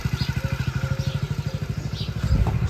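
A motorcycle idles close by with a steady, rapid low thumping beat that grows slightly rougher and louder toward the end; no talking.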